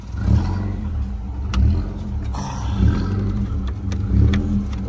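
The 1.8T engine of a Volkswagen GTI, twentieth anniversary edition, revs up and settles in several rhythmic swells, close and loud with a deep rumble.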